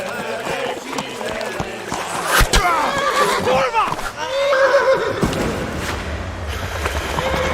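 A horse in the video game Kingdom Come: Deliverance whinnies loudly several times, with hoof clip-clops and thuds around it and voices talking in the background.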